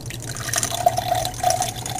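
Coconut milk pours into a cup with a soft, steady trickle and small splashy drips, close and fairly quiet, lasting the full two seconds.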